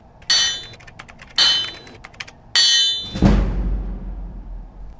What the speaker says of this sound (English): bust out your trusty hammer and go over to your forge.